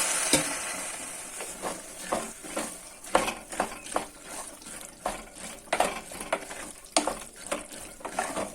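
Vegetables coated in masala are stirred and scraped in a pan with a little added water, giving a string of irregular scraping strokes over a soft, steady sizzle, close and moderately loud.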